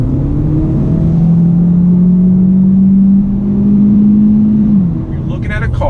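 A 2019 Hyundai Elantra Sport with a 1.6-liter turbocharged inline-four and dual-clutch transmission heard from inside the cabin, a loud steady engine drone holding one pitch, then dropping as a gear change arrives, with a brief voice at the end.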